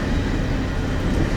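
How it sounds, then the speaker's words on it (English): Steady, heavy rumbling of a train passing nearby, a continuous low roar with no gaps. "The big train."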